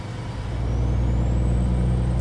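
A truck's engine brake in a trucking simulation game: a loud, steady low rumble that holds throughout, with a faint whine rising slowly above it.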